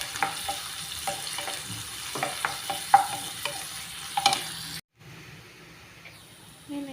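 Onions and green chillies frying in hot oil for a mushroom masala curry, a steady soft sizzle with scattered clicks of stirring, then a brief drop to near silence before the frying resumes more quietly.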